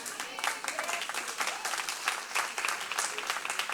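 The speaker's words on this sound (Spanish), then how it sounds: "Yo esperaba un aplauso más fuerte aquí que eso." A church congregation claps together in a steady, moderately loud wash of applause that fills the room evenly, with no single voice standing out.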